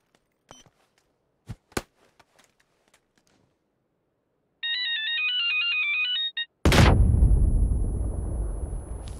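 A ringing phone in the PUBG video game trills steadily for about two seconds, followed by a loud booming explosion that rumbles and fades out; a few sharp clicks and taps come beforehand.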